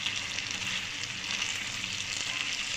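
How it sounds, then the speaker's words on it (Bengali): Chicken sautéing with spices in a pan, a moderate steady hiss of frying with faint stirring, no voices. "মশলার সঙ্গে চিকেনটাকে আমি 2-3 মিনিটের জন্য কষিয়ে নিচ্ছি"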